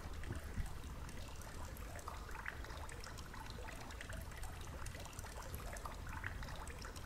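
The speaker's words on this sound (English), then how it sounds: "the only real sound I could hear was the water dripping" Water dripping and trickling in a dark video game tower, a faint steady wet patter with a low hiss beneath, continuous and distant, no voices.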